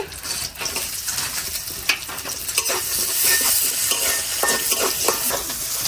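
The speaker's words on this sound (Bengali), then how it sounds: "পেঁয়াজটা একটু লাল করে ভাজিয়ে নিব প্রথমে" Chopped onions hiss and sizzle in hot oil, with a spatula scraping and stirring the pan in frequent close strokes.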